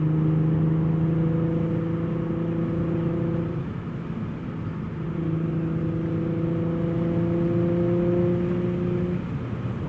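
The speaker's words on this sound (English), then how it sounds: "I do need to blip the throttle to rev match" A 6-speed Infiniti G37 with a Motordyne exhaust hums at a steady cruise on a country road. Its engine note drops briefly, then the revs rise again and settle into an even, droning tone.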